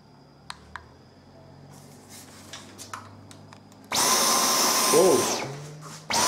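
A Dyson Digital Slim Fluffy cordless vacuum cleaner is switched to medium power: quiet clicks and handling noise give way to a loud, close, steady whooshing roar that cuts off briefly and then resumes.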